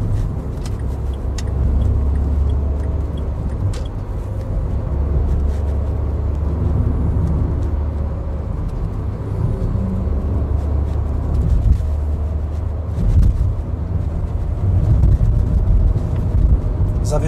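Dacia Dokker van driving through city traffic and easing off speed, a steady loud low engine and road rumble filling the cabin for the whole stretch, with faint rattles and clicks on top.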